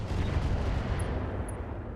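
Mech weapons fire together in the RogueTech battle game, a dense, rumbling volley of booms and blasts that holds steady, with a couple of faint high electronic blips.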